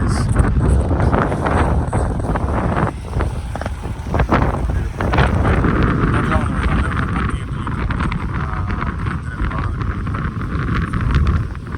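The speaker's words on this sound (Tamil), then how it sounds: "புயல் காற்று மாதிரி அடிச்சிட்ருக்கு" Strong, gusty storm wind roars and buffets the microphone continuously amid thunder and lightning, with heavy rumbling low noise throughout.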